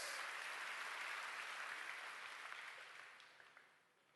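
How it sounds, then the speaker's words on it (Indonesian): Church congregation at a GBI Rock service applauding, a dense wash of clapping that holds steady at first and gradually fades toward the end, with no one talking. "Tepuk tangan buat Yesus"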